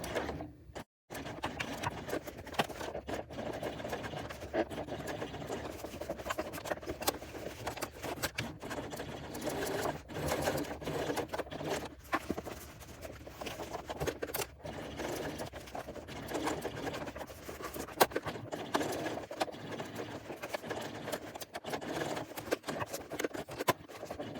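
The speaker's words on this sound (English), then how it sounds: "I'm just going to back stitch and straighten them up." Sewing machine back stitching the seam of a fabric bucket bag: a steady rapid mechanical chatter of the needle running almost continuously at close range, with brief pauses and changes in pace.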